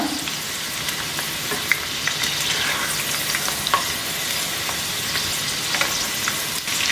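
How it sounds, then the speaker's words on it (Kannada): Sweet corn pakoda frying in hot oil, giving a steady, close, continuous sizzle with small crackles and pops throughout and no voices. "ಚೆನ್ನಾಗಿ ಬ್ರೌನ್ ಕಲರ್ ಆಗೋವರೆಗೂ ಇದನ್ನು ಚೆನ್ನಾಗಿ ಫ್ರೈ ಮಾಡ್ಕೋಬೇಕು ನಾವು"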